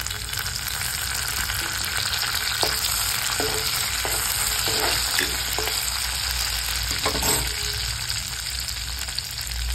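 Curry leaves go into onions frying in oil, producing a steady crackling sizzle with occasional soft stirring taps, moderately close and without talk.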